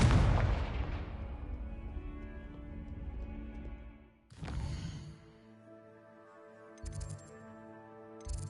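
A Confringo blasting spell explodes in the video game Hogwarts Legacy: a loud boom with a long rumbling tail, then a second sharp blast about four seconds later over game music, with smaller bursts toward the end.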